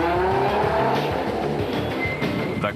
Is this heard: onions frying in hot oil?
no